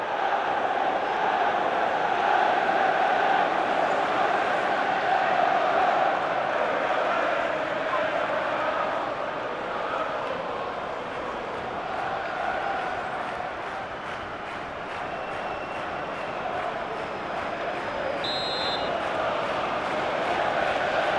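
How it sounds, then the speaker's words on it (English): A stadium crowd in the FIFA 14 football game at a Manchester United versus Manchester City FA Community Shield match keeps up a steady, broad roar and murmur for about twenty seconds, with no sharp peaks. "Good crowd here, big clubs, of course, the FA Community Shield, and we're underway."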